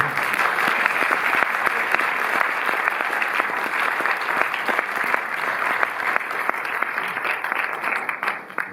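Sustained audience applause in a Paris cinema welcoming a film director to the stage, a dense, steady wash of many hands clapping at close range throughout, with no talk over it.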